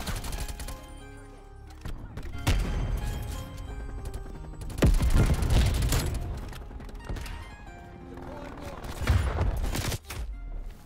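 Gunfire in Call of Duty Cold War, with repeated bursts of automatic rifle fire from a Groza class and scattered thuds and impacts, fairly loud and continuous across the match.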